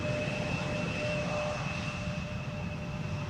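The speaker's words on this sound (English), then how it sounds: "is a KLM Embraer 175 arriving from Newcastle" A KLM Embraer 175 arrives at Amsterdam Schiphol Airport, its engines a steady roar with a thin whine over it, distant and even throughout.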